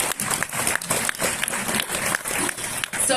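Audience clapping after a talk on revolutionary optimism: a dense, steady wash of many hands with a few louder claps near the front, filling the whole moment without a break.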